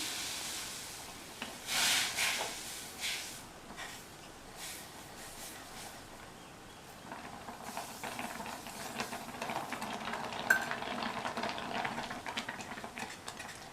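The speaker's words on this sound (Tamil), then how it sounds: "இந்த ரவை நல்லா சாஃப்டாக வேகிற வரைக்கும் கிண்டி விட்டுக்கலாம்" Semolina (rava) being stirred in boiling water in a pot over a medium flame, soft scraping and sloshing strokes with a faint bubbling hiss underneath, quiet and close, with occasional light clinks.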